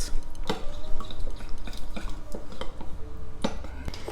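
Spoon scraping and clinking against a bowl while stirring melted chocolate, with irregular taps and soft wet sounds.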